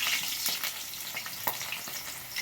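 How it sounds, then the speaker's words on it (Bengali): Potato pieces fry in hot oil for aloo dum, giving a steady, close sizzle with crackling pops throughout and no voices. "তেলটা গরম হয়ে গেছে, আমি আলুগুলো দিয়ে দিলাম।"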